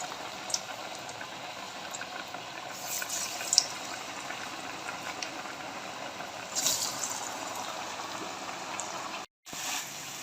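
Gram-flour-coated potato chips fry in hot oil, giving a continuous bubbling, boiling hiss with a few louder crackling bursts, steady and close throughout.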